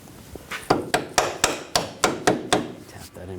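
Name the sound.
tapping a leveling sensor bracket into place on a BMW X5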